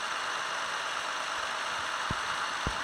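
Tractor engine in the Farming Simulator 18 video game, a steady mid-pitched idle drone under a broad hiss, joined near the end by two short low thumps.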